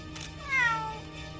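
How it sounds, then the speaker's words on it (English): A single cat meow from the video game Mana Khemia, a short rising-then-falling cry that stands alone and close. "The cat noises."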